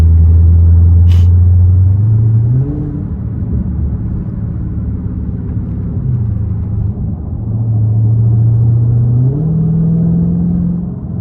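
Dodge Scat Pack muscle car exhaust rumbling steadily in highway rush-hour traffic, a deep loud drone that rises and falls as the engine revs up and settles, close and continuous with no talking.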